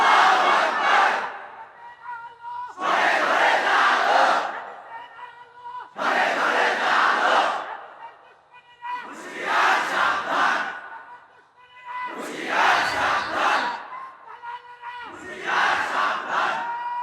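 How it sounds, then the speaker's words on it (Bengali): A large crowd at an Islamic sermon gathering shouting slogans in unison, six loud rhythmic bursts of massed voices separated by short pauses, call-and-response style and fairly near. "এরা এত কষ্ট করে স্লোগান দেয়"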